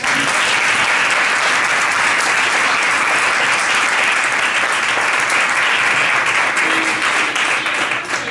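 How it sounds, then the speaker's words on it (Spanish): Steady, dense audience applause from a full room at an educators' talk, loud and continuous throughout without any voices. "le damos un fuerte aplauso"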